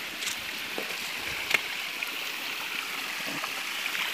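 Small river stream flowing outdoors, a soft, continuous watery hiss at low level with a few faint clicks and knocks, no talking.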